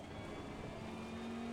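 A race car in a racing video game drives in rain while oversteering, its engine a steady droning roar with one tone rising in pitch, heard alone without speech.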